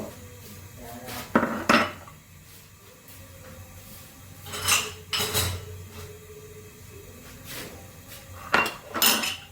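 Dishes and cutlery clatter and clink in a home kitchen as cups are rinsed for tea, with a few sharp bursts of clinks spaced apart over low running background noise, close and moderately loud.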